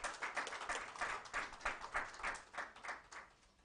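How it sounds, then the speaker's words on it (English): An audience at the launch of a whitepaper on a demand flexibility roadmap in India breaks into steady, sustained applause, many hands clapping in a dense rolling patter with no talking over it. "can we have a big round of applause for the entire team who's put an effort to write this"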